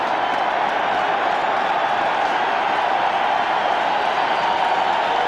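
Football stadium crowd at a 1986 NFC divisional playoff game between the 49ers and Giants roaring continuously during a Giants defensive play, a loud, steady wall of cheering and applause.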